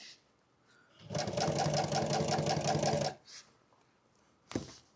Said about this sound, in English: This is going to get a top stitch, so I want to make sure that there's plenty of sewing allowance.